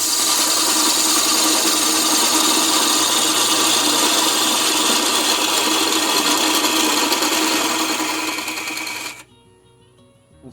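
A carbide-tipped square nose tool cuts a cedar tenon on a spinning lathe, a loud continuous scraping whir for about nine seconds before it stops abruptly, leaving a faint hum.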